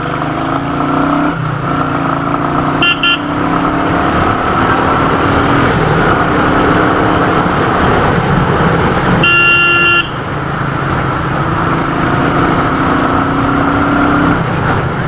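A 2020 Royal Enfield Meteor 350 motorcycle cruises in fifth gear through road traffic, its engine humming steadily under loud wind rush, with passing car horns tooting briefly around three and ten seconds.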